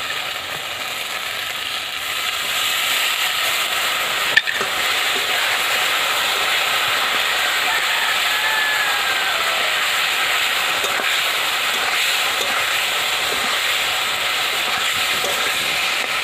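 Water poured into a hot pan of tilapia fish curry gives a loud, steady hiss that holds for about sixteen seconds, with one brief knock near the start and no voices.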